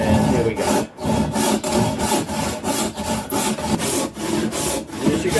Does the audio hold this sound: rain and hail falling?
no